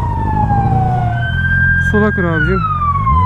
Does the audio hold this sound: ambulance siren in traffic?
yes